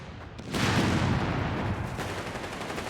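Gunfire in the World War II strategy game Company of Heroes 3, a dense sustained burst of automatic shots and booms that starts abruptly after a brief quiet moment and rolls on loudly without letting up.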